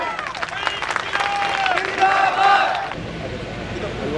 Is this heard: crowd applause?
yes